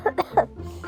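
Three short, sharp coughs in quick succession, close and fairly loud, trailing into a soft breathy murmur.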